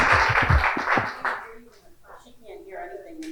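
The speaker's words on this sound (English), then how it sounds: "I'm sorry they're clapping, but they're clapping." Applause and clapping from an audience at a township board of supervisors meeting, briefly heard under and after a person speaking, then tapering off into quieter room sound.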